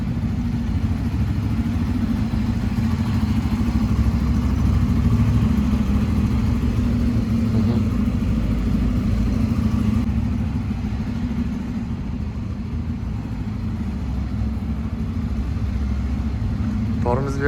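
A car engine idles and rolls steadily as a learner drives without touching the accelerator, a continuous low hum running throughout with people talking over it.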